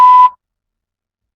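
A single short electronic beep, pitched at a pure tone, lasting about a quarter second and followed by silence, marking the moment to start preparing a spoken response in a speaking test.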